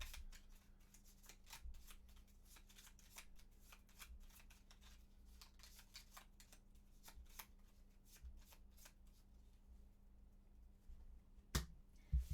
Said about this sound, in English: now we're going to shuffle this back in.